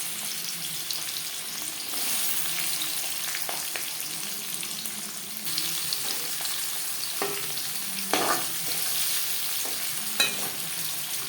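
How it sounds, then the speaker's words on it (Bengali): Chopped onion fries in about six spoons of refined oil in a wok for chicken biryani, giving a steady close sizzle broken by intermittent scrapes and knocks of a spoon stirring. "কড়াইতে দিয়ে দিয়েছি ছ চামচ মতো রিফাইন্ড অয়েল এবার দিয়ে দেব পেঁয়াজ কুচি"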